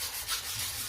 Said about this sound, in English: Just clean it up a little with memory cloth.